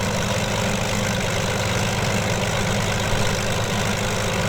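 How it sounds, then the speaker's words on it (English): A P-40B Tomahawk with a big radial engine idling at about 1000 RPM in Microsoft Flight Simulator 2020, a steady low throbbing drone with broadband hiss, constant and moderately loud with no voices. "bring the power up again to idle around 1000 RPM"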